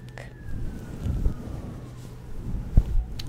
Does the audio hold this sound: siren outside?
yes